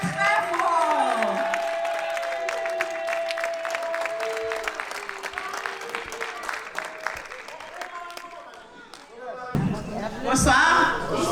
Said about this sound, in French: Je vous demande à nouveau de l'applaudir très, très, très fort.